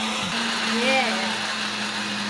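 Garlic, ginger and water whir in an electric blender, a steady loud motor drone close up, with a voice speaking over it briefly.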